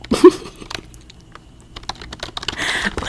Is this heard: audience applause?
no